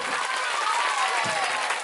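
An audience at a magic show applauds, a dense, steady wash of clapping that carries on loudly throughout.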